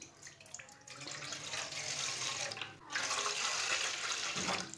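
Two glasses of water poured into a pot for noodles make a steady, close splashing gush that runs almost continuously, with a brief break partway through.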